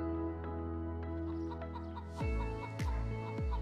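Several chickens clucking in a short run of separate calls, close and fairly loud, each call sliding down in pitch, with no talking.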